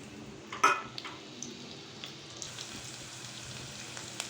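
Three medium chopped onions go into a pan with three tablespoons of oil: a sharp clatter, then a soft, spreading sizzle broken by light utensil ticks. No voices.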